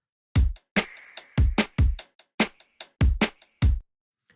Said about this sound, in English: The first thing we did was we added in a hi-hat